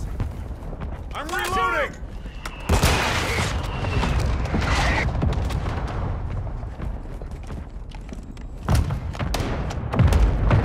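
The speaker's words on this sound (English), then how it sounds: "Hostile mortar strike in the area." Mortar strike explosions in a Call of Duty Modern Warfare multiplayer match at Al Bagra Fortress, heavy thuds and booms scattered through battle noise, with a shouted voice and radio callouts over the top.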